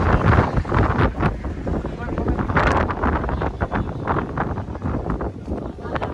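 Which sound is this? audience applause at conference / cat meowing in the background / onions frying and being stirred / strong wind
strong wind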